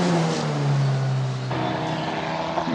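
Formula Regional European Championship single-seater race cars climb uphill at Mugello during qualifying, a loud sustained engine drone that shifts pitch mid-way as a car passes, heard alone without talk.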